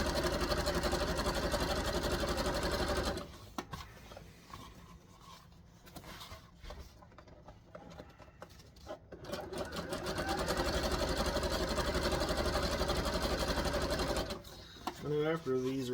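A serger sewing machine runs loud and close, whirring steadily, easing off through a quieter stretch and then speeding back up, while it finishes elastic on wrestling tights.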